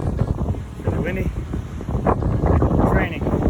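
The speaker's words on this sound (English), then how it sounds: "Really windy." Strong storm wind roars through trees, many of them dead, during a summer storm on burned backcountry public land in California, a steady loud gusting rush with rustling and some microphone buffeting throughout.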